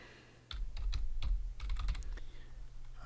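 Keys clatter on a computer keyboard as a database name is typed, a close run of quick, irregular taps and clicks that starts abruptly and continues without any voice.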